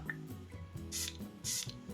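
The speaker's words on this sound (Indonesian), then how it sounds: "Gue pakai baju dulu ya. Semprot di baju." A perfume atomizer sprays onto clothing in two short hissing bursts about half a second apart, close and fairly loud, over faint tonal background music.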